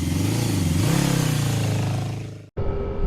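Motorcycles from a group of five rev and ride off from a gas station, a loud close engine roar rising in pitch, then an abrupt cut to a steadier engine drone.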